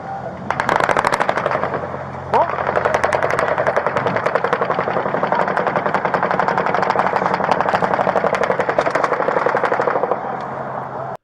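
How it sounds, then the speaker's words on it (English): Sustained rapid-fire rifle gunfire rattles on for about ten seconds in dense, evenly spaced bursts with one brief pause, loud and harsh with echoing reverberation. "Listen to the gunfire in this clip"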